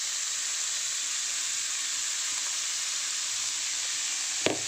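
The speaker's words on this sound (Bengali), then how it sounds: "গরম হয়ে গিয়েছে, এবার আমি বাঁধাকপিগুলো দিয়ে দেবো।" Cabbage mixed with salt, turmeric and a little sugar fries in hot oil with a steady, bright sizzle and hiss, ending in a single sharp clink of a utensil near the close.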